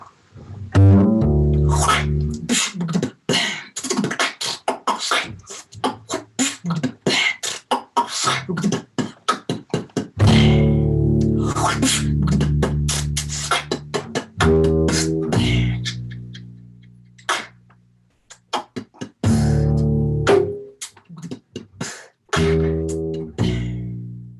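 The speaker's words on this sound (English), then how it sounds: "And I've got a really nice delay pedal." Electric guitar notes ring out with echoing repeats trailing after each phrase, played alone in bursts with short pauses between.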